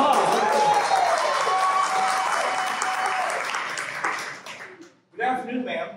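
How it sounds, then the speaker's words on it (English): A live audience bursts into sustained applause and clapping at a comedy show, loud and dense for about four seconds, then fading and cutting off before a brief burst of talk. "Round of applause."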